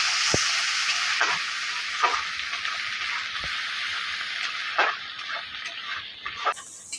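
Cumin powder and Kashmiri chili powder sizzle in hot oil in a pan while a spoon stirs them, with a steady hiss and several sharp scrapes and taps scattered through.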